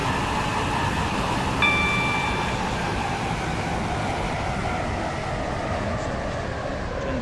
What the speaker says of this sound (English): This train is now approaching Eden Quay.